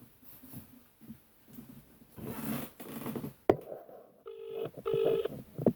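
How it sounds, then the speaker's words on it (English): A telephone call being dialed: after some soft handling rustle, a sharp click is followed by a short series of keypad tone beeps, close and clear. "I meant to ring the voicemail, not ring my mum."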